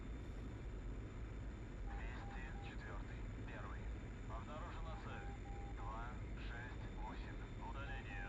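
Steady broadband roar of a MiG-21bis jet in flight in the DCS World combat flight simulator, loud and continuous throughout, with someone talking over it.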